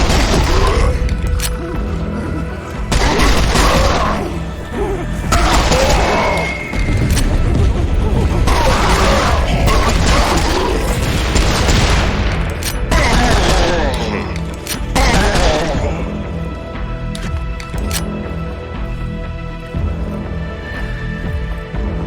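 Heavy gunfire and booming explosions burst out in repeated clusters in the Serious Sam 4 shooter game, loud and close, with mechanical clatter between volleys and occasional voices mixed in.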